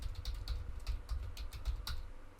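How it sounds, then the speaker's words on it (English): Quick, fairly close keystrokes on a computer keyboard, a steady irregular patter of soft clicks with no talk over them. "like I'm typing"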